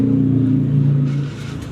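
Old shop truck engine idling steadily, a low smooth rumble with an even rhythm that dips slightly in loudness near the end, heard alone without talk.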